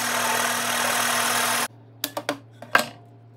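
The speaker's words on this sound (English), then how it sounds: "So with that, I'm going to drill this hole then." A drill press whirs loudly and steadily while drilling a hole for a DIY kayak navigation light and safety flag, then cuts off abruptly, followed by a few sharp clicks and knocks.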